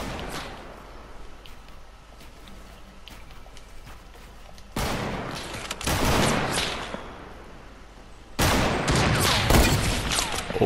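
Gunfire in a sniper video game, a sparse scatter of faint distant shots, then louder sustained bursts of firing and impacts toward the end, with no talk.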